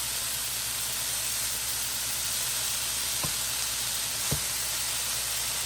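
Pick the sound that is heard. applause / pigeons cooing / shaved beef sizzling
shaved beef sizzling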